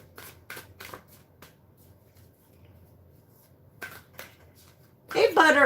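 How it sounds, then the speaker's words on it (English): A tarot deck is shuffled by hand, giving several short papery riffles and flicks spaced apart, then a louder burst of card handling at the end, close and fairly quiet. "And we'll shuffle up here."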